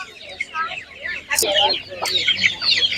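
Several chickens cluck and chatter close by at an animal market in an uneven flurry of calls, with a few sharper squawks among them.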